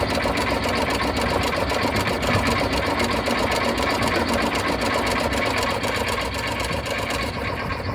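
A car engine runs steadily at a swap meet while the throttle is worked, giving a fast, even mechanical chatter that stays loud and close throughout.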